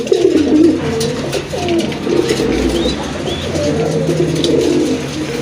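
A male pigeon coos in repeated low, throaty phrases close to the recording, steady and prominent against faint room noise.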